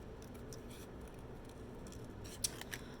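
Scissors snipping around a paper swan cut-out for a blue and white card, a few faint quiet snips over a soft background hiss.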